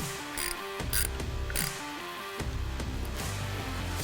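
A ratchet tightens the hardware on a Harley-Davidson brake pedal pad, giving several short clicking and whirring bursts close up with mechanical rattles and no talk.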